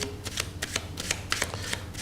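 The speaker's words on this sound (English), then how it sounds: "Let me just give these a quick shuffle." A pack of playing cards is shuffled close up, giving rapid riffling bursts and crisp flicks in an uneven rhythm over a low background hum.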